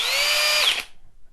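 A Flex hammer drill runs in turbo mode, a loud steady high-pitched whine for most of a second that then cuts off and spins down into quiet.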